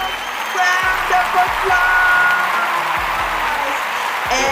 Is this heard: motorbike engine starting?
no